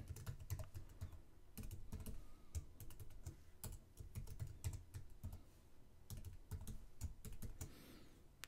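Keys clatter on a computer keyboard as a new password is typed, quiet irregular bursts of clicks with short pauses between runs.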